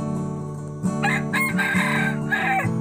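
A fighting rooster crows loudly and close by, one long strained call rising and holding, over a steady low hum.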